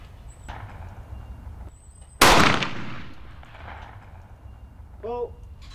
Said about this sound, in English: I'm going to shoot this target just past the post there